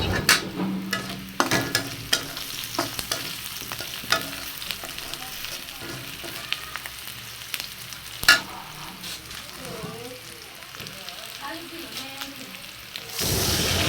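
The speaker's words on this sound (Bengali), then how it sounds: "পেঁয়াজ আর মরিচ একটু ভাজা ভাজা হয়ে গেলে" Onions and chillies sizzle in a pan while a Malabar spinach and dried fish curry is being prepared. A steady, close crackling hiss runs throughout, broken by sharp clicks and scrapes of stirring, with no voices.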